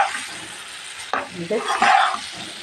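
Sweet pumpkin and shrimp stir-frying in a pan, with a steady close sizzle, a sharp clatter of a utensil and scraping stirring strokes that grow louder toward the end.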